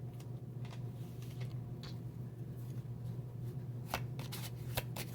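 A Pagan tarot card deck is shuffled close by, with soft riffling and clicking cards that grow into sharper snaps toward the end, over a low steady background hum.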